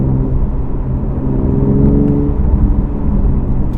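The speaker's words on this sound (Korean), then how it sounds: "이 소리 자체가 우웅 하면서 길게 나가는 이 BMW 6기통 가솔린 엔진 특유의 어떤 이 엔진 소리가" A new BMW 4 Series sports sedan's six-cylinder petrol engine accelerates from inside the car, producing a loud, steady, drawn-out low hum and whir that swells slightly as it pulls, with no talk.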